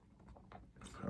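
Faint close-up chewing of a Whataburger meal dipped in barbecue sauce, a few soft, wet bites and munches over a second, quiet and brief.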